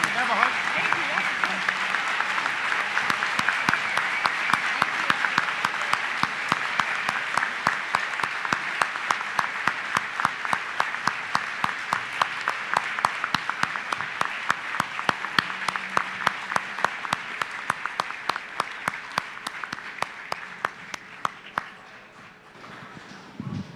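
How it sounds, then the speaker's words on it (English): A breakfast crowd at the 48th annual Governor's Breakfast in Northern Michigan claps in a long, steady round of applause that fills the room, with a few voices underneath before it fades near the end. "join me in giving her a big Cadillac Northern Michigan round of applause"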